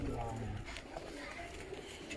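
Pigeons cooing softly in a rooftop loft, a faint low murmur under steady background noise and distant voices.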